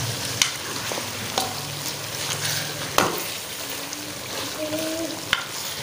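Beef karahi frying in a pan, with a steady sizzle and a few sharp clinks of a spoon stirring against the metal, close and moderately loud.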